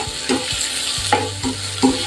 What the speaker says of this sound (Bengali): পেঁয়াজটা এখানে সুন্দর করে নেড়ে চেড়ে ভেজে নেবো।